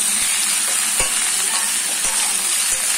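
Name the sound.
frying mixed vegetables in a pan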